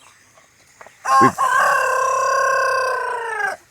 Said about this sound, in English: Listen to these roosters try to get their crow right as they're young and learning how to crow